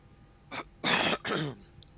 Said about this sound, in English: Sorry for clearing my throat like that